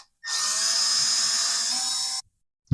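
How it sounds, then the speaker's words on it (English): A power drill with a bit just over 4 mm drives a hole in a sewer-pipe coffee mug, making a steady, close, high whine for about two seconds that starts and stops abruptly, with silence on either side. "first hole done"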